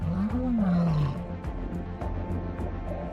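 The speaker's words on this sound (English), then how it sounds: "that thing roars like that and it vibrates inside of you" A lion roars from about 5 to 10 meters away: one deep, rising and falling bellow, then a run of rhythmic, pulsing grunts that fade off.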